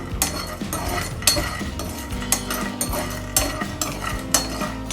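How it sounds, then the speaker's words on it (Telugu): Whole spices (cinnamon, cloves, cardamom) and cashews being stirred while they fry in a pan for a soya masala kurma paste, with repeated metallic spoon clinks and scrapes over a steady close sizzle and no talking. "చెక్క నాలుగు లవంగాలు మూడు ఎలాచీలు జీడిపప్పు పది పలుకులు ఇవి కొంచెం దోరగా ఫ్రై చేసుకుందాము"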